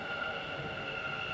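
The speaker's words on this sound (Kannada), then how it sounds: "ಮೆಟ್ರೋ ಬಂತ್ರಿ, ಬನ್ನಿ ಹೋಗೋಣ" A metro train pulling into a station gives off a steady, faint electric whine and low rumble that holds evenly throughout, with no talking.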